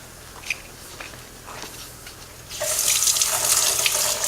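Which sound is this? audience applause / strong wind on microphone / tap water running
tap water running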